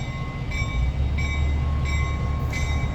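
A Long Island Rail Road light engine locomotive moving, heard as a steady, loud rumble with a low engine drone and faint repeating clicks.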